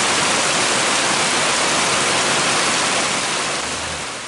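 Heavy rain falls steadily on a farm where cows graze in a pasture, a dense, loud, unbroken hiss close by that eases slightly at the end.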